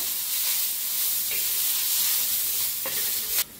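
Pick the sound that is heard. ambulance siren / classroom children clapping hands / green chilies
green chilies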